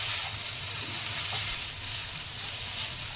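Ginger, garlic and chili paste sautés in a pan for veg cutlets, a dense, steady hiss of frying with faint stirring, close and continuous.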